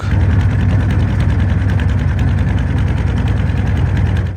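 A river trawler boat's engine drones loud and close, a steady chugging rumble with a fast regular beat that never lets up, with no voices over it.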